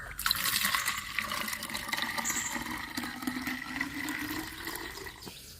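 A litre of water poured into a container for rooftop garden use, a continuous close splashing fill that runs steadily for several seconds and tapers off at the end.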